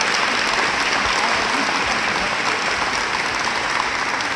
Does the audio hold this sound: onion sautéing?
no